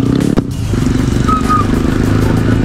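A Honda ADV 160 scooter engine runs steadily at close range on a road near a checkpoint in Masinloc, Zambales, a continuous low drone with a brief clatter early on.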